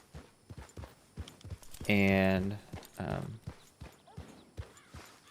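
Horse hooves walking in the Red Dead Redemption video game, a steady, fairly close clip-clop running the whole time, with a loud tonal call or voice breaking in briefly near the middle.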